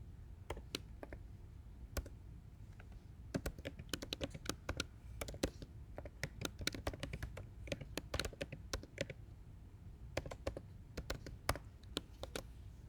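Typing on a computer keyboard: irregular runs of crisp, close key clicks with brief pauses between bursts, fairly quiet and continuing for several seconds without speech.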